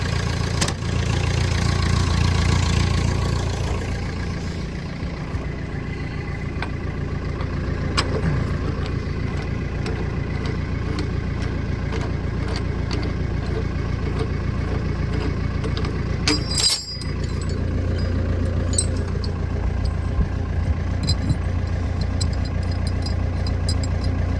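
A machine with a hand throttle and a slew motor runs at a steady idle while warming up. The engine drones continuously and close by, with a brief dip partway through and no voices.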